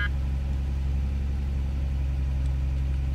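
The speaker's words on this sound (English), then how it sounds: "Let's start the car." A Nissan 350Z engine idles steadily with a low, even rumble throughout, close and continuous, with no revving or other sounds standing out.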